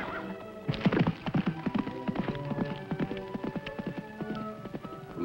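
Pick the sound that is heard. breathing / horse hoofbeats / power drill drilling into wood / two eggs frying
horse hoofbeats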